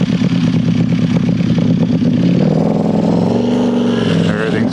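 A tuned Ducati Panigale V4S superbike engine revs loudly and steadily while riding, pitch rising and falling through gear shifts with quick-shifter blips, close and continuous for the whole stretch with no talk.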